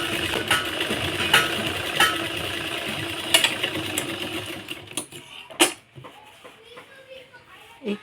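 A sewing machine stitches fine seams on blouse fabric, running in a steady mechanical whir with a few sharp clicks and pauses, fairly close, with children's voices and someone speaking in the background.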